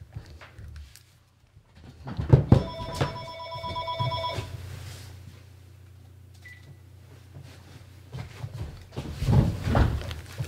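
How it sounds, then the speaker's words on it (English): A home telephone rings in a room, a burst of electronic bell tones for a couple of seconds, with clunks and handling noises around it and quiet room sound after. "Let me just make the phone stop ringing."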